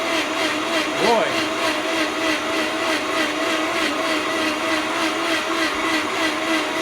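A Vitamix personal blender whirs steadily and loudly throughout, with a brief voice cutting in near the start.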